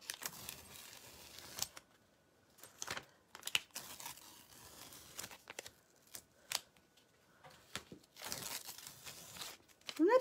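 Stencil tape peels off a painted tray in a series of short, crackly ripping and crinkling bursts, close and fairly quiet, separated by brief pauses.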